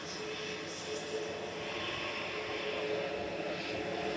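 SunExpress Boeing 737 MAX 8 jet heading to Antalya from Manchester Airport, a continuous jet engine roar at moderate distance with a brief higher whine near the start, steady and unbroken.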